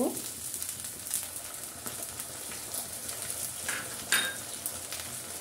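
Onions fry in a pan as ginger paste is added for beef biryani, a soft, steady sizzle with a couple of faint utensil clinks against the pan.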